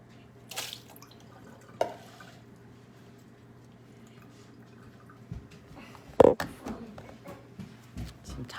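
Sparse drops of water fall into a sink, a few soft isolated plinks spaced seconds apart against a quiet room hum, with faint background voices.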